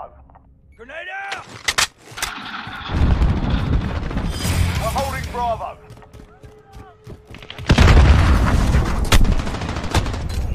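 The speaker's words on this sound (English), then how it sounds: "Grenade out!" Grenade blast in Call of Duty: Modern Warfare multiplayer, a heavy booming burst amid scattered gunfire and radio chatter, loud and close with several sharp impacts across a busy battlefield mix.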